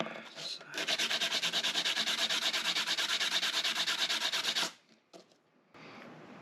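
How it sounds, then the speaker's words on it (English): Sanding a Damascus steel ring with bourbon barrel oak inlay, a rapid, steady rasping rub held for about four seconds, close and fairly loud, then stopping, followed by a few faint handling sounds. "Didn't take much sanding."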